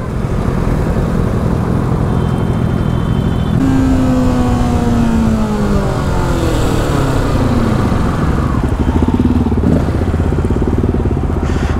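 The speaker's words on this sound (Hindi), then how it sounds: "बर्नआउट।" A Kawasaki ZX-10R superbike doing a burnout, its engine roaring loud and close for the whole stretch, with rising and falling revs sweeping through the middle.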